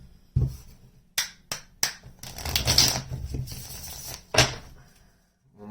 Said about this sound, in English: Nope, that was a bad shuffle.